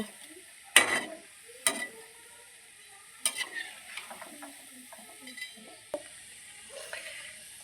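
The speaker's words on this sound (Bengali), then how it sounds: "কি সুন্দর ভাজা হচ্ছে" Onion fritters deep-fry in a pan of oil at dusk, with a soft sizzle beneath sharp, irregular metallic clinks and scrapes from stirring, close and fairly quiet, with no voices.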